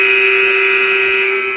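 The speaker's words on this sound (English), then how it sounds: "The buzzer goes off again." A loud electronic buzzer sounds in a school gym during a basketball hoopathon at Cape Cod Academy, one steady, unbroken tone held close and alone for the whole stretch.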